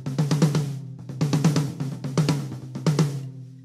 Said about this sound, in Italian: Il tomuno è proprio stoppatissimo